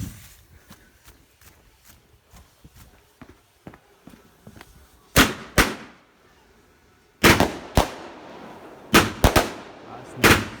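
A 16-shot Ultimate Showdown firework cake with 25mm bore fires at a display, with faint pops at first, then loud sharp bursts in clusters of two or three, each trailing into crackling echo.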